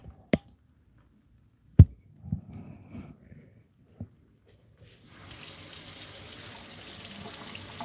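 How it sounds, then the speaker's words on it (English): Cool tap water starts running over a steak in a kitchen sink after a few scattered clunks and knocks, becoming a steady, close, hissing stream. "I'm going to run some of that cool water over it"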